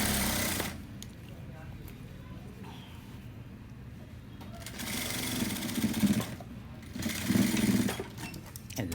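Sewing machine stitching rubber elastic onto cloth, its motor whirring in short bursts that swell louder toward the end, with a voice speaking over it.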